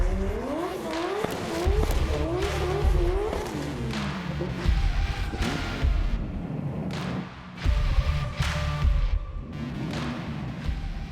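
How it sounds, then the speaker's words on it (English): Drift cars scrubbing their tyres at Manfeild Raceway during a D1NZ National Drifting Championship round, with engines revving hard and repeatedly and tyres squealing and skidding in bursts, loud and continuous. "we'll get ready to scrub the cars, get some heat in the tyres if that's at all possible"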